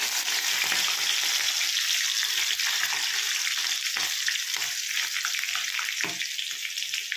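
Finely chopped chilies fry in hot oil with panch phoron, giving a constant bright sizzle close up, broken by soft stirring scrapes and small crackles throughout.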